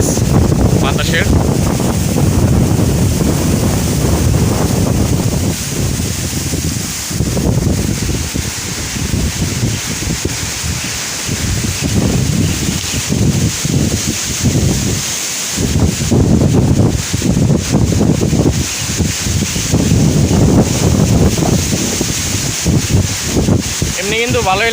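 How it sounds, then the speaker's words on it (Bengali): Strong wind gusts through a village ahead of a cyclone, a loud continuous rush that swells and dips, with a voice talking briefly over it at moments. "খুবই তেজ বাতাসের।"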